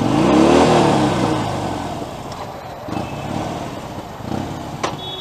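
A Harley-Davidson Fat Bob 1600cc motorcycle engine cranks and fires up, then settles into a loud, close, rumbling idle with a few throttle blips.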